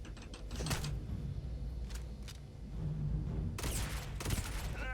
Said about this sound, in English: I got a grenade launcher.